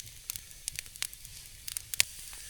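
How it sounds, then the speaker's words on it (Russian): A first campfire of damp firewood is catching outdoors, close by. It gives irregular sharp crackles and pops over a soft, steady hiss of wet wood sizzling, with no one talking. "Все сырое, пока гореть не хочет, но самое главное, чтобы огонь взялся"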